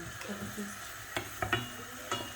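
Soft steady sizzle of onions frying in oil, broken by a few sharp clinks and scrapes of a utensil stirring the pan.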